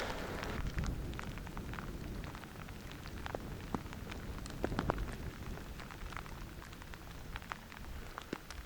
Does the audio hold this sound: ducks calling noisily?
no